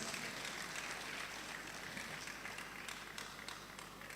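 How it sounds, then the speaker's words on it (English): Sustained applause from an audience, a dense wash of clapping heard at a moderate distance, steady throughout with no voices over it. "Can I hear that applause for him, please?"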